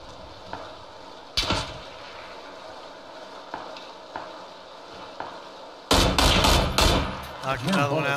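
PUBG gunfire around the warehouses: a few isolated sharp shots early on, then a loud, dense burst of rapid fire near the end over a low background hum.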